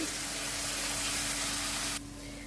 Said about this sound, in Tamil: இந்த நல்லா எண்ணெயில் வதங்கட்டும்